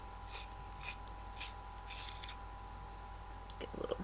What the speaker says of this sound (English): I am going to sharpen it a little bit with my trusty sharpener.